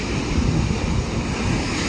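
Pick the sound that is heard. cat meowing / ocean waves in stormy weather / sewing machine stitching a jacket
ocean waves in stormy weather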